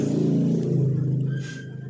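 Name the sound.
motorbike passing by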